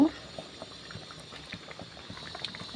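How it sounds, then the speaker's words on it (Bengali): Masoor dal with jute leaves simmering in a pot, a quiet bubbling with scattered soft pops, faint and close, with a voice briefly at the start and end. "এই যে ডালটা আমার ফুটে এসছে অনেকক্ষণ ধরে ফুটছে"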